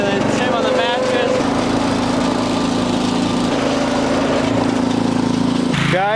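A quad pulling a trailer with a person riding on a mattress behind it, its engine droning steadily and loud throughout with a rising pitch change partway, continuous motor hum up close.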